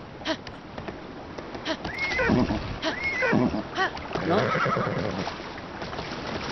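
Horse in Zelda Breath of the Wild whinnying a few times amid splashing water and hoofbeats, with someone talking over the game sounds.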